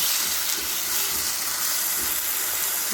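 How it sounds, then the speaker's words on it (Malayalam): Tomatoes sauté in a pan for a tomato curry, giving off a steady, loud, broadband hiss of sizzling and steam that runs unbroken throughout, with no voices. "തക്കാളി നന്നായിട്ട് വഴറ്റുക തക്കാളി ഇതിൽ വെന്ത് ഉടയണം"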